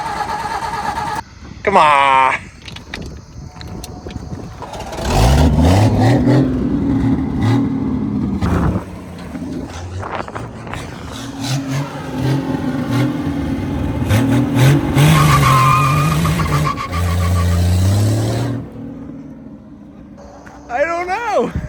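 A Ford Edsel engine cranks, catches and revs hard for a burnout, rising and falling loudly alongside people talking and calling out.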